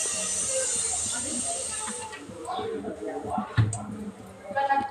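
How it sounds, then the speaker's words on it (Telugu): Oil is poured a little at a time into a cooking pan for cauliflower bagara rice, making a soft steady hiss for about two seconds, followed by light clatter and sizzling. "కొంచెం కొంచెం ఆయిల్ వేస్తాం."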